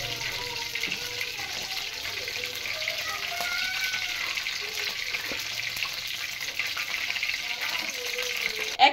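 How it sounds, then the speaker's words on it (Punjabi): Hot ghee sizzling in a pan before pakoras go in, a faint steady crackling fry noise lasting throughout, with a light clink near the end. "ਇਹ ਘੀ ਵੀ ਸਾਡਾ ਗਰਮ ਹੋ ਗਿਆ"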